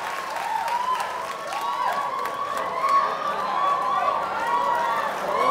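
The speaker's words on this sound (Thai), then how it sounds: "ปรบมือต้อนรับวันเจตภาคีรัตน์ครับ" An audience at a Thai public lecture on the August 7 referendum applauds to welcome the speaker, producing a sustained spatter of clapping that holds steady for several seconds with a faint crowd murmur underneath.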